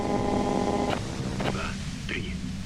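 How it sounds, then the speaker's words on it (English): Radio white noise in the video game Disco Elysium hisses loud and steady throughout, a dense static wash with a faint hum under it while a voice speaks over it. "you can do it through the white noise."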